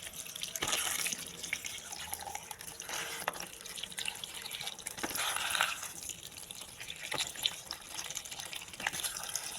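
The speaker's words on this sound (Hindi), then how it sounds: "ये देखें आम को हमने अच्छी तरह धो लेना है।" Whole mangoes rinsed under a running kitchen tap, a steady splashing stream with drips and small knocks as the fruit is turned, close and even, with no talking.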